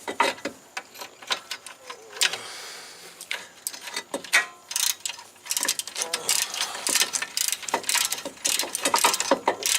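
A ratchet tightens bolts on the front brakes of a 2008 Suzuki Forenza, rapid clicking bursts in uneven runs, close and loud, with brief pauses between strokes.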